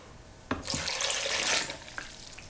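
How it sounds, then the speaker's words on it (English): Vinegar pours into a container holding a still-hot banana pepper mixture for hot sauce, a close, steady splashing rush lasting about a second after a couple of light knocks, then a faint trailing trickle. "I'm going to add the vinegar and blend it up"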